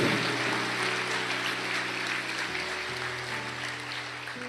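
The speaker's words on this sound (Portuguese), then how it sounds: "dá uma salva de palmas" A church congregation applauding, a continuous, moderately loud patter of clapping over sustained musical tones from a keyboard or organ underneath.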